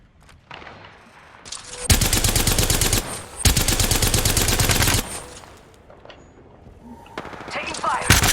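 Bursts of video game gunfire from a battle royale match, loud rapid volleys in two long stretches with quieter gaps, game voice callouts and player talk heard between the shots.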